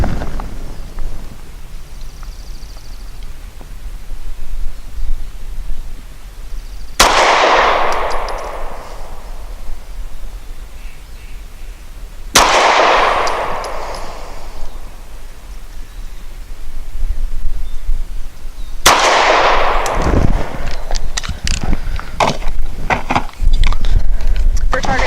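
A Springfield XDe 9mm pistol firing SIG 365 115 grain ammunition outdoors, three loud, sharp reports spaced several seconds apart, each followed by a decaying echo, with louder noise and clatter toward the end.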